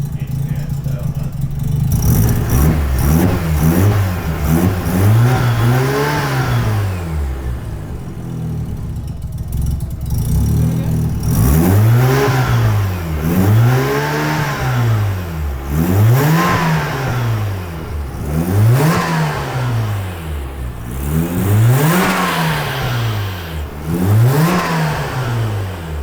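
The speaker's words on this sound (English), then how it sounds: "Is it spooling? Oh yeah. It's spooling." A Mazda RX-7 FC, started after years in storage, revs repeatedly in a steady rhythm, each rise swelling and dropping back as the turbo spools, loud and close, with voices underneath.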